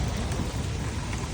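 Steady rain falls on a road, a dense, even wash of patter with a low rumbling undertone, continuous and fairly close with no voices.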